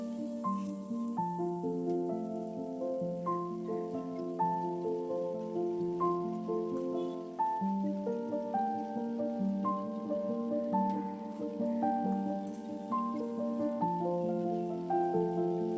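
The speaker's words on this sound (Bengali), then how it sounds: "পেঁয়াজ কুচি কুচিগুলোকে হালকা আছে ফ্রাই করব বেশি ফ্রাই করব না জাস্ট একটু হালকা সটে করে নিব তেলে" Chopped onions sauté lightly in oil for a Bengali topshe fish bhuna, giving a soft, steady, rain-like sizzle under continuous background music.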